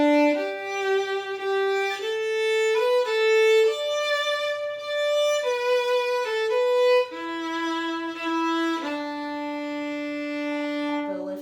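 A string instrument plays a slurred bowing exercise from a sixth-grade orchestra lesson, in a sequence of smooth sustained notes that step up and down in pitch with connected changes and no talking.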